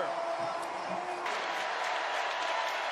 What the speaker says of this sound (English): Crowd getting loud here at Scott Stadium